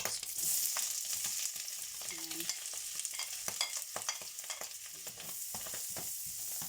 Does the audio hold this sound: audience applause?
no